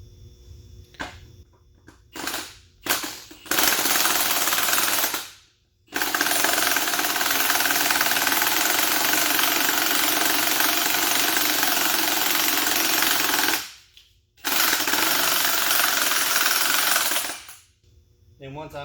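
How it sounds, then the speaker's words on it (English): Impact wrench gently pulling an old nut onto a replacement CV axle, heard as long sustained rattling hammering bursts, loud and close, with short pauses between them and a few brief taps at the start. "I'm going to very gently use my impact to pull it on it."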